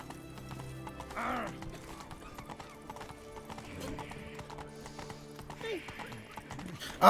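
Horse hooves clip-clopping steadily in The Witcher 3: The Wild Hunt, with occasional neighs and whinnies over ambient game sounds, a player talking over it.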